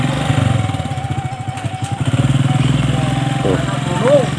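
A motorcycle rides along a rough, rutted village road, its mid-pitched engine chugging steadily and up close with rhythmic pulsing and occasional clatter, a brief rise in revs near the end.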